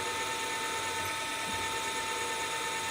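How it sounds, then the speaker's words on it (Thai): Continuous high-pitched whine of a drill running steadily as it bores into a metal workpiece, with a harsh grinding hiss, unbroken and close. "เจาะลงไปเรื่อย ๆ นะครับ"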